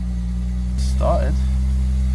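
An Audi 80 2.6 V6 idles steadily after a timing belt and water pump job, a low constant engine drone close to the microphone, with a voice briefly heard over it.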